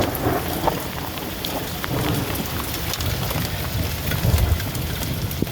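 Steady heavy rain pours down with rolling thunder in a storm, close and loud, a continuous wash of downpour beating on surfaces with no voices.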